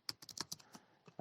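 Close, quiet clicks of keys being typed on a computer keyboard in a quick, uneven burst of about eight strokes.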